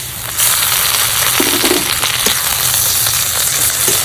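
Ginger-garlic paste hits fried onions in a hot pan for an Indian jackfruit curry, setting off a loud, steady sizzle with a few faint stirring scrapes.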